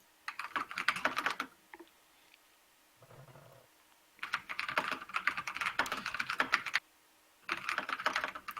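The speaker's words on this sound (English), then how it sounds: "This is a mechanical keyboard. It's louder than I'm used to." Rapid clacking bursts from a loud mechanical computer keyboard, typed in several long runs separated by short pauses, close to the microphone with no talking.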